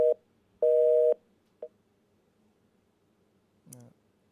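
A telephone busy tone after a dropped phone line: a short steady beep, then a longer one, a click, and a brief warbling electronic chirp near the end, loud and clear with no voices.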